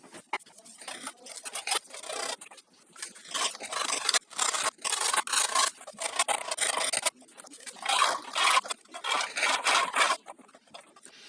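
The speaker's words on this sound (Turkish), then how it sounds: "zımparayla temizleyeceğim." Dry, rhythmic scraping strokes of sandpaper rubbing on metal parts of an Arzum AR225 toaster during repair, close up, in repeated bursts with short pauses between.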